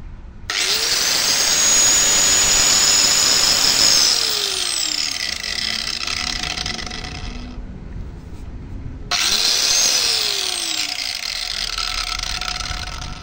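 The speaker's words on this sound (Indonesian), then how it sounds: "Suaranya lebih ringan dibanding saat pertama tadi menghidupkan, yang stempetnya belum kuganti." Old angle grinder running after a part was replaced, a loud high-pitched steady whine spinning up, running several seconds, winding down to near silence, then started again to full speed; nobody talks.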